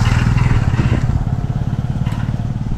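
A fairly large motorcycle idles nearby with a steady low chugging rumble and faint rattling, continuous throughout the short clip.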